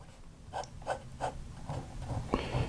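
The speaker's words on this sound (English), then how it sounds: "So it's a very smooth nib. It doesn't require any pressure to write and to lay down some ink." A handmade medium fountain pen nib writes on paper: soft, close scratchy strokes in a rhythmic series of about seven short scrapes, quiet and without talk.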